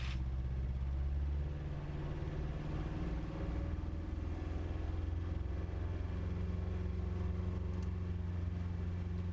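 Jodel D18 light aircraft engine held at steady run-up during a magneto check, a loud continuous low drone with no noticeable dip, heard alone from close by.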